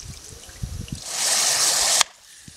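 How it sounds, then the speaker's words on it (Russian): Water pours over rice being rinsed for Samarkand pilaf: a few light knocks, then a steady close splashing rush for about a second that cuts off abruptly. "Тщательно, где-то 5-6 раз промываем рис до того, как вода у нас будет полностью прозрачная"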